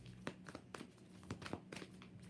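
Tarot cards are shuffled close up during a reading, a quick run of crisp, papery riffles and soft slaps with uneven spacing, quiet and alone.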